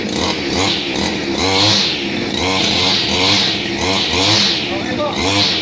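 A two-stroke grass cutter engine runs steadily at close range, a loud buzzing drone that swells and dips in a slow, regular rhythm, with no talking over it.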